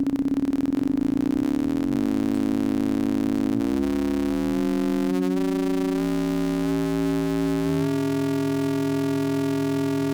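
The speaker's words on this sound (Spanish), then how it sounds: "Vamos aumentando la frecuencia del oscilador portador." A buzzy AM synthesizer tone rich in harmonics whose carrier oscillator pitch is raised in several steps, shifting and warbling continuously for about ten seconds with no voices.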